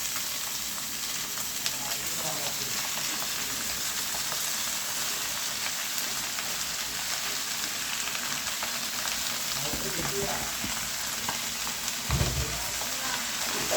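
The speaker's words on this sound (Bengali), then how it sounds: "ভাজা পেঁয়াজ রসুনগুলোর ভিতর চিংড়ি মাছগুলো দিয়ে দিলাম। এখন একটু ভেজে নিই।" Shrimp frying in a pan with already fried onion and garlic, a steady close sizzle throughout with a few stirring scrapes and a soft thump near the end, no voices.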